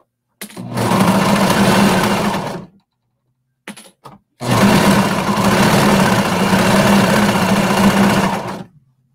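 A sewing machine stitches a 3/8-inch seam on a bralette in two loud, close runs: a two-second burst, a short pause with a few faint clicks, then a longer steady whir of about four and a half seconds, with no voices.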